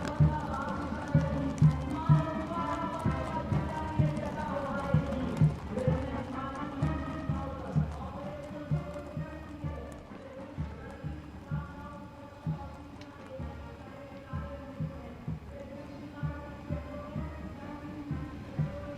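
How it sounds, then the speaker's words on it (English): Hooves of the 61st Cavalry horses at India's Republic Day parade on Kartavya Path, a steady rhythmic clip-clop of many hooves on pavement, continuous and moderately distant, with crowd ambience and brass band music underneath. "mounted on magnificent gleaming steeds, the 61st Cavalry Contingent"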